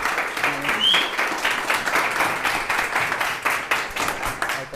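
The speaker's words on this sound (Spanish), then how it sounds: "si podemos recibir con un fuerte aplauso a Andrés Barrientos" An audience at a talk welcomes the speaker with applause, a fairly small crowd clapping in an uneven, pulsing patter that rises and falls over a few seconds.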